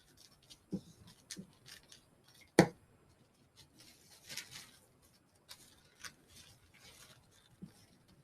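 Scissors snip through paper while making a junk journal, a handful of sparse, quiet cuts and rustles with one sharper snip standing out.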